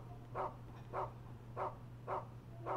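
A dog in the video game Rule of Rose barks in a steady series of five evenly spaced woofs, moderately loud over a low background hum.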